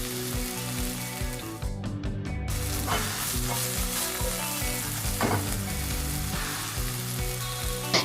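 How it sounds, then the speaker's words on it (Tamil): Ivy gourd stir-frying in a pan for a peanut masala, a steady close sizzle broken by repeated scraping and stirring strokes of a spatula, with no voices. "இந்த கோவக்காய் நல்லா வெந்த பிறகு ஃபைனல் ஸ்டேஜில் நீங்கள் இந்த வேர்க்கடலை பொடியை ஆட் பண்ணி நல்லா கிளறி விட்டு"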